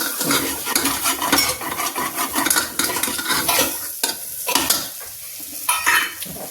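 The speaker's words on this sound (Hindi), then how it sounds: "अब इसको हम फिर से भूनेंगे" Spices for a pea dish sizzle and crackle in a hot pan while a metal spoon scrapes and stirs them in uneven strokes, close up.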